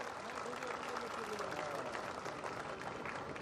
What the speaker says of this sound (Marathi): त्यांच्यासाठी एक जोरदार टाळ्यांचा कडकडाट होऊ द्या